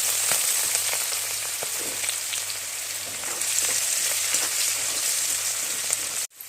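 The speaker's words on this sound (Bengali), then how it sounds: "রসুনটা থেতো করে তেলে ফোড়ন দিয়ে দিচ্ছি" Crushed garlic crackles and sizzles in hot oil as a tempering, a steady dense frying hiss that stays alone and fairly loud throughout.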